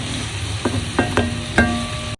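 Marinated chicken feet adobo, Kapampangan style, landing in a hot pan: a steady sizzle with a few sharp clattering hits as pieces are added and stirred, close and fairly loud.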